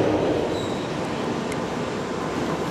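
A London Underground Piccadilly line train rumbles along at a steady close roar, a continuous broadband noise with faint brief squeals of the wheels.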